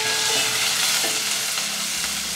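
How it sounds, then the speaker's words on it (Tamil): Onions sauté in hot oil in a pan with a dense, steady sizzle close up, a few soft stirring scrapes breaking through. "இங்கே வந்து வெங்காயம் வதங்கிட்டு இருக்குது,"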